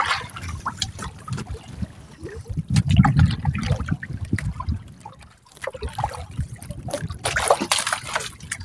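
A strong river current rushes and splashes near a fishing spot, with broadband gurgling and surging water that rises and falls and stays loud throughout.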